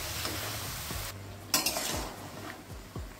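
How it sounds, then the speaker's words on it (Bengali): Masoor lentils fry with winter vegetables in a pan, giving a soft, continuous sizzle under several close scrapes and taps of a spoon stirring, with one brighter clatter midway. "এবার ডালটাকেও এর সঙ্গে ভেজে নেব সবজির সঙ্গে"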